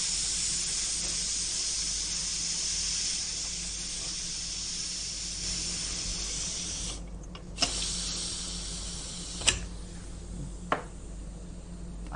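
A pressure cooker on the stove vents steam while cooking ghee and coconut milk biryani, a steady loud hiss running for about seven seconds before easing, followed by a few sharp clicks and knocks.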